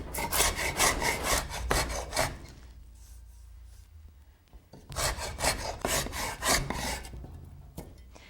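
Hand planer with a deeper blade setting cutting along wood, giving rapid rasping strokes in two loud close bursts separated by a quieter gap.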